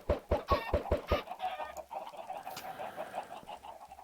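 Chickens cluck in the video game Minecraft, a quick run of sharp, evenly spaced clucks up close followed by softer, scattered clucking over a light background.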